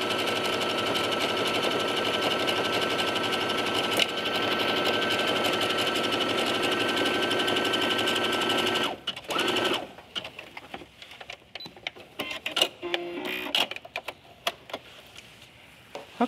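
Sewing machine stitching old capris into a skirt, running in a steady continuous whir for about nine seconds before stopping, followed by quieter handling clicks and fabric rustles.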